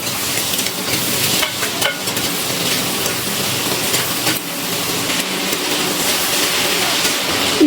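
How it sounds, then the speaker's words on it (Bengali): Potato pieces fry in a pan on an induction cooker with salt and turmeric, producing a loud, constant sizzle broken by occasional stirring clatter and scrapes, with no talking. "এবারে খুব ভালো করে আমি কিন্তু আলুটা ভেজে নেব।"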